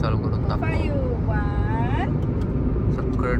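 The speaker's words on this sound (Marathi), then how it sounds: "रोडला एकदम ट्रॅफिक जाम आहे." Heavy road traffic in a jam near Karad: a dense, steady rumble of vehicles close by, with several brief tonal horn-like calls rising over the noise in the first two seconds.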